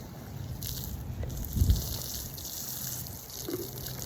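Water from a garden hose trickles and splashes while a headstone is cleaned outdoors, a faint running flow with one brief louder gush partway through.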